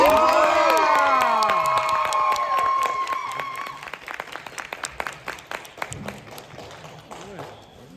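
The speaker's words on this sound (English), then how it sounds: "one more round of applause" A loud convention audience after a Q&A claps and cheers with whistles and shouts, the noise gradually thinning into scattered claps by the end.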